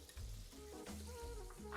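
Butter heating in a pan for a date and prune cake batter gives a steady close sizzle and crackle, continuous for a couple of seconds.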